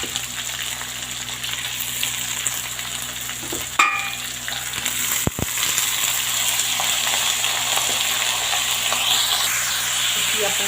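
Onions with cumin fry in a pan for a bhindi pyaj sabji, giving a steady, loud, close sizzle throughout, broken by a couple of brief utensil clicks.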